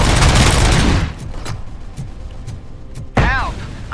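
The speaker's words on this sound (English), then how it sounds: "these guys are shooting themselves" Gunfire in the video game RoboCop: Rogue City: a dense, loud burst of rapid shots for the first second, then scattered sharper single shots and thuds, with a voice briefly heard near the end.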